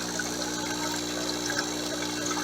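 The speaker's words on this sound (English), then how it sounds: "So all that water swirls around the outside" Water swirls steadily through an aquaponics swirl filter holding waste from Nile tilapia, a continuous close rushing and trickling wash with a low pump-like hum beneath it.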